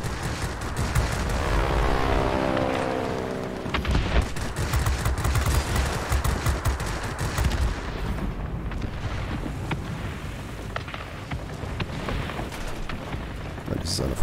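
Rapid bursts of warplane machine-gun fire in World of Warplanes, loud and continuous over engine roar and booms, with someone talking over it.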